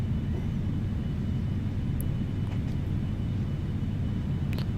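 An airliner's engines roar through a takeoff run in the FS2004 flight simulator, a constant heavy low rumble with a few faint, brief clicks over it.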